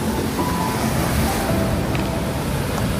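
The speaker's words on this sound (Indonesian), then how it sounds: "Suara ombak yang pecah menjadi satu ciri khas dari pantai Batu Picah ini." Surf breaking over coral rocks at Batu Picah beach on Biak Numfor, Papua, at low tide, a steady unbroken wash of waves filling the whole stretch with no voices.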